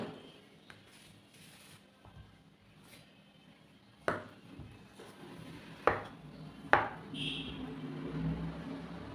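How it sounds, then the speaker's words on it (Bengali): A knife chops peeled, boiled yam bulbils into small pieces on a board, with a few sharp, separate knocks spaced a second or two apart over a low room background and faint clinks. "এবার ছোট ছোট করে কেটে নেব।"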